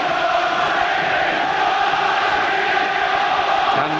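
Massed cheering from home supporters fills the ground at Barnsley during the night FA Cup replay against Manchester United, a constant broad roar that stays loud and even throughout.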